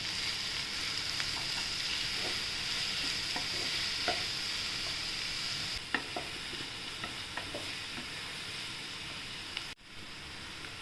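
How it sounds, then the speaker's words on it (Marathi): Onion with green chilli paste sautéing in a pan, a steady hiss of frying with occasional spatula scrapes and clinks, fairly close and even throughout. "आपण याच्यात आता हिरवी मिरची लस वाटून टाकले ते टाकूया परतून घेऊया आपण छान"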